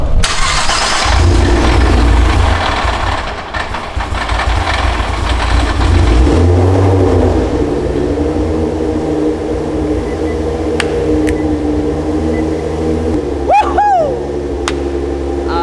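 A 1200hp Nissan GT-R engine cranks, fires and catches with a loud burst, then settles into a steady, lumpy idle close by, with a few brief high chirps and squeals near the end.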